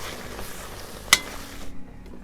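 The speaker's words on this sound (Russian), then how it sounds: "И теперь овощи будем тушить, чтобы они совсем размякли." Ratatouille vegetables and meat stew in a kazan with a soft, steady sizzle and bubbling, nearby and moderately loud, broken once by a sharp click before it quiets.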